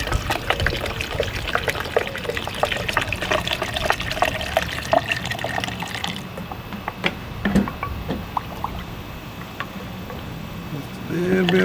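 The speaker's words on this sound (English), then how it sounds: "Then we'll get water and finish filling her up." Tap water pouring into a drink pitcher to top off a mixed fruit drink, a steady trickling and gushing stream running close by in a kitchen, with a voice speaking over it.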